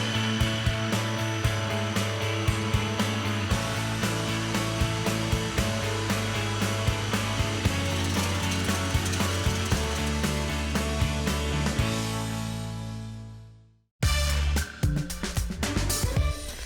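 Blender blitzing ricotta cheesecake mixture with orange until smooth, a loud continuous whirring motor drone that winds down and stops, then starts again briefly.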